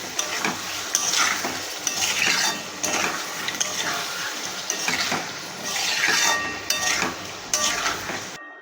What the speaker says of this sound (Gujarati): હવે આપણે એને આ રીતના હલાવી લઈશું